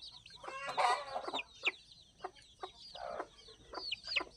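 Chickens on a backyard poultry farm cluck and squawk in short, close bursts with brief pauses between them, fairly loud and with no talking.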